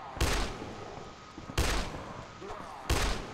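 Gunfire in the zombie game Dead Island Riptide as a player shoots a thug: three sharp, loud blasts spaced about a second and a half apart, with quieter game ambience between them.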